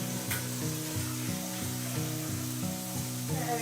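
Food sizzles in a frying pan on a home stove while spaghetti water boils, a steady crackling hiss with a low repeating rhythmic tone beneath it, close and fairly loud, with no talking.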